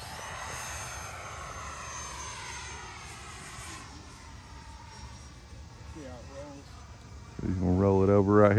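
A Freewing F22 90mm EDF RC jet flying overhead, a steady moderate whoosh of ducted fan noise lasting throughout, with voices speaking over it toward the end.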